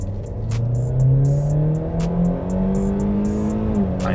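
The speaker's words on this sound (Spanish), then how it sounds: "Ahora veamos la aceleración, lo pongo en drive, verifico que esté en modo sport" A Hyundai Kona gasoline engine pulls at full throttle in sport mode, its steady drone climbing smoothly in pitch, loud and continuous with faint clicks over the top.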